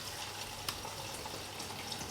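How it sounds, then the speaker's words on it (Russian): Aquarium water drains through a hose into an empty plastic bottle, a faint, steady trickling wash with a few small drips. "И нехитрым движением сливаем воду."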